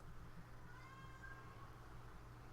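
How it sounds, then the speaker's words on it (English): Faint cat meows drift over a steady low hum, a couple of thin drawn-out calls standing out briefly without any talk. "Meowing cats."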